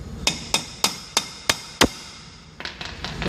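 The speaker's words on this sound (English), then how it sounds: "get your little hammer and just sort of tap it home" A small hammer taps a front brake hub into place on a 2003 Mustang Cobra, six sharp metallic strikes in a steady rhythm followed by a few lighter, quicker taps, close and loud.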